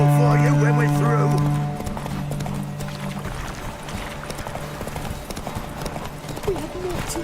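Horse hooves galloping in The Witcher 3, a steady clip-clop of hoofbeats running under a rider's spoken urging and game music throughout.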